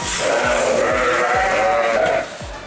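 Dorper sheep bleat loudly and continuously at feeding time, several animals calling at once in a dense, close chorus that eases off near the end.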